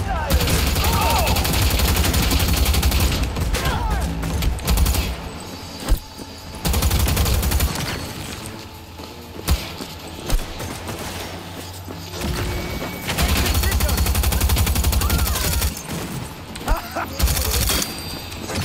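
Gunfire in the video game Cyberpunk 2077 comes as loud bursts of rapid shots and booming impacts in clusters, with short quieter gaps between volleys, under occasional talk.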